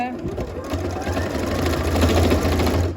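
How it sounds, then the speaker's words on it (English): A sewing machine stitches a rib band onto a hoodie at a 1 centimetre seam, running in a steady close-up whir while someone talks over it. "I'm just sewing on my 1 centimeter"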